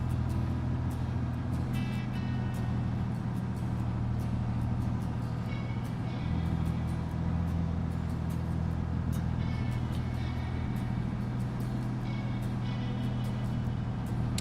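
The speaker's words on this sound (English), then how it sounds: "with the Kenworth sound effects, that's a nice combo too" A Kenworth truck engine in the Farming Simulator 25 video game drones in a steady, loud, low rumble that stays close and continuous throughout.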